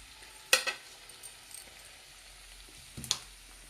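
Raw mango pieces go into a pan of already-fried onions, bringing a few sharp stirring scrapes and clatters over a faint, steady sizzle, close by.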